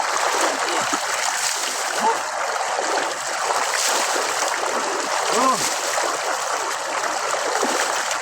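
People bathe and splash in a river, with continuous rushing water and scattered nearby splashes, and voices talking now and then over the flow.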